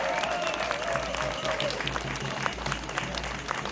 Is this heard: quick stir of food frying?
no